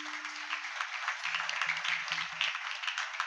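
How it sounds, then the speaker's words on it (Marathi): Village audience at a Marathi kirtan gathering applauding local singers and musicians, a steady patter of many hands clapping throughout, while a brief low sustained tone and a few short, separated low tones sound beneath it. "एकदा सर्वांसाठी जोरात टाळ्या वाजवा"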